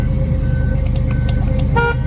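A short horn toot from a 1968 Camaro SS350 sounds near the end over a steady idling engine rumble, close and brief.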